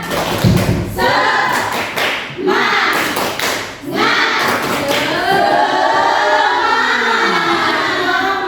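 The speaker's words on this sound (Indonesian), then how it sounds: "Ayo tepuk semangat." A class of schoolchildren performs the 'tepuk semangat' clapping chant, rhythmic bursts of clapping with thumps, interspersed with the children's chanting voices, close and lively.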